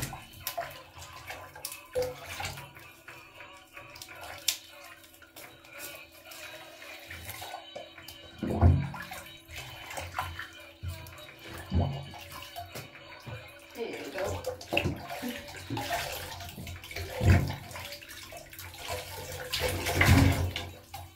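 Water sloshes and splashes in a bathtub as a child's hair is washed during a dino egg bath bomb bath, with soft irregular splashes over a steady running-water background and occasional voices.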